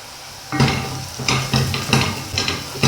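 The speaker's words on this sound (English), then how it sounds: "I'm going to cook my garlic until it's also quite fragrant" Garlic and cumin seeds frying in hot oil, a close sizzle broken by repeated stirring scrapes that come in rough bursts every half second or so.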